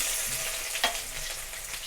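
A steady, close sizzle of garlic frying in hot oil, with one brief sharp clink partway through.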